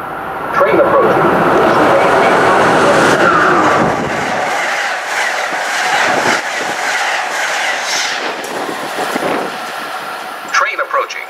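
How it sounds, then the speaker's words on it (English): An Amtrak Northeast Regional train rumbles loudly into Readville station and slows, with rail clatter and a squeal of brakes as an automated announcement warns to stay behind the yellow line. "Train approaching. Please remain behind yellow line."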